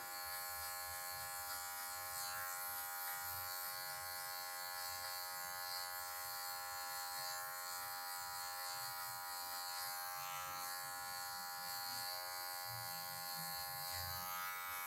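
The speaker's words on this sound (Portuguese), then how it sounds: "só com a pontinha da maquininha nas partes que ficaram marcadas, ficaram escuras" Electric hair clipper trimming afro hair while fading a mohawk, a steady high buzz that runs continuously with slight shifts in pitch as the blade moves, with no one talking.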